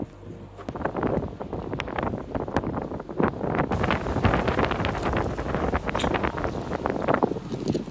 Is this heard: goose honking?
no